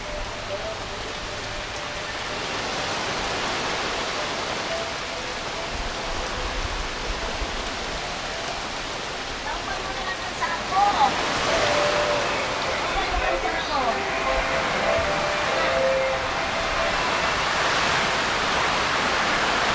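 Heavy rain from Typhoon Paeng pours down in a continuous roar on surfaces nearby, growing louder and harsher about halfway through, with voices faint underneath.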